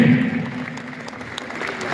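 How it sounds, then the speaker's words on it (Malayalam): Applause from an audience at a national tug-of-war competition, a steady patter of clapping running the full two seconds, strongest at the start, with a voice faintly under it. "നമ്മൾ ബാക്കിയുള്ളവരെല്ലാവരും കൈയടിക്കും ഓക്കെ വലിയ കൈയടി"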